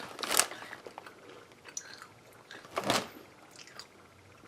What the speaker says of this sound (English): The granola is nice and crunchy and sweet.